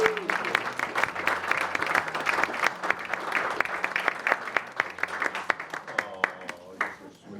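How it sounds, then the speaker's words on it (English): Audience applause at a reunion for a three-time championship team, steady clapping from a modest crowd with distinct individual claps standing out, voices talking and calling out underneath it, fading slightly toward the end. "I think just a big round of applause."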